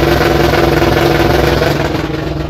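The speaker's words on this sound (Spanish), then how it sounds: "Ahora yo voy a acelerar" A drag car's engine is held at a loud, steady, throbbing roar with the trans brake engaged, close up and pulsing evenly, with no talk.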